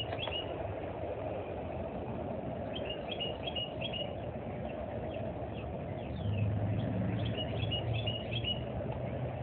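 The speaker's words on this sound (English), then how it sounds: "Can you hear the birds?" Birds chirp in brief scattered bursts over the constant low rumble of nearby traffic, the calls faint and intermittent against the steady hum.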